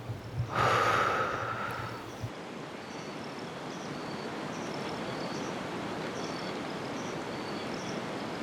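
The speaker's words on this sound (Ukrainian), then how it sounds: "Зробіть глибокий вдих і видих через рот." A deep breath through the mouth during a whispered sleep meditation: one strong, close, airy intake swelling and fading over a couple of seconds, followed by a quiet, steady background hush with faint insect-like chirps.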